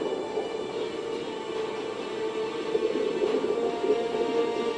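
A continuous low rumbling roar of a giant asteroid bearing down on the planet, steady and heavy like distant freight trains, building slightly toward the end with no voices.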